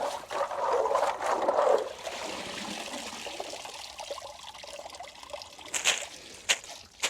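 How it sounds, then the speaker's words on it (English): Water trickling and draining down from a pond waterfall filter, a steady close dribble with a louder splashy stretch early on and a few drips and knocks later. "I'm going to wash the filter media in that water that's draining down"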